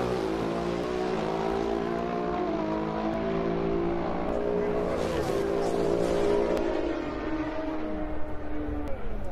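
A Pro Stock Motorcycle drag race run at the 2018 NHRA Southern Nationals, with loud, sustained high-revving engine roar whose pitch climbs steadily as the bikes accelerate down the strip.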